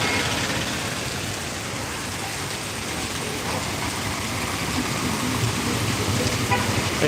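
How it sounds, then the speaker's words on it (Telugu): Heavy rain pours down at Saptagiri Circle in Anantapur, a dense, unbroken hiss, close and constant throughout. "హాఫ్ అన్ అవర్ పైన వర్షం వస్తూనే ఉంది"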